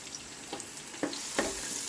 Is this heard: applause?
no